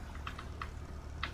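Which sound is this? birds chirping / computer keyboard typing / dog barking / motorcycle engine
computer keyboard typing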